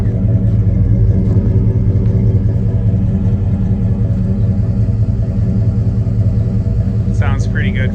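A Mazda truck swapped with an LT1 V8 idles while warming up, a loud, steady, deep rumble close to the microphone. A chirp-like sound appears briefly near the end.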